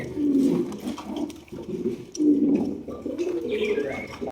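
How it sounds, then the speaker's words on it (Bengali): Gola pigeons cooing at close range in a pigeon market, repeated low, throaty coos in a steady rhythm, with faint background voices underneath. "এখানে আরো একজোড়া গোল্লা কবুতর রয়েছে দেখতেই পাচ্ছেন"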